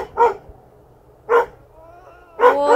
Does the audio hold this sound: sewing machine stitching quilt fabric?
no